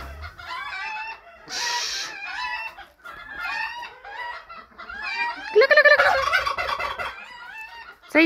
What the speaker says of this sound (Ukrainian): Цей індик так само розмовляє зі мною